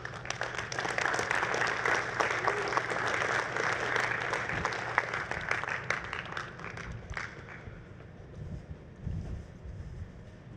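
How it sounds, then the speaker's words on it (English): A conference audience at Dreamforce, the Salesforce Winter '24 Developer Preview session, gives a big round of applause, sustained dense clapping that carries for several seconds before tapering off into quieter room sound. "let me invite all of our speakers back on stage to take your questions with a huge round of applause"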